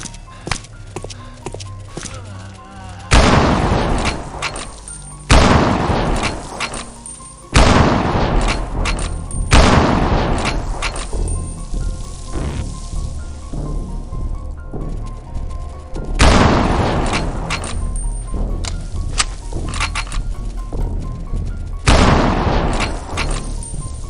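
Gunfire and heavy explosions in the Groove Games zombie game, loud repeated booming blasts and shots with lever action rifle, Glock, shotgun, assault rifle and sniper rifle fire, separated by brief quieter gaps.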